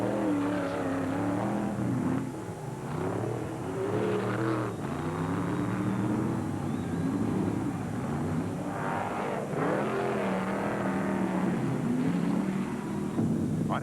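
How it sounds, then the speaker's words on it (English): 1975 IMCA sprint car engines roar continuously at high revs at Tampa Fairgrounds, a dense, loud racing drone with rising and falling pitch as cars pass, no voices. "all engines are wound tight and the sound of thunder echoes off the grandstands"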